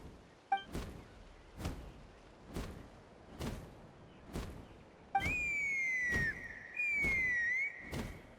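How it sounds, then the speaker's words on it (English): A whistle in the video game Genshin Impact, set in Natlan: a steady high pitched tone that rises slightly, sounding twice in the second half over repeated rhythmic thuds. "That sounded like a whistle."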